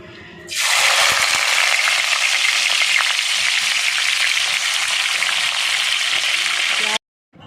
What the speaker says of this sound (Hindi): जैसे ही ऑयल गरम होता है इसके अंदर हम प्याज को ऐड करेंगे